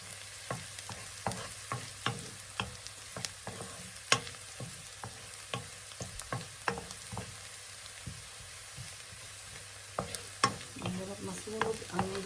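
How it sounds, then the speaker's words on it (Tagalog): Garlic fries and sizzles in a pan while a utensil stirs it, with repeated sharp scrapes and clicks at an irregular rhythm over a steady low sizzle. "Halo-haloin para hindi masunog guys."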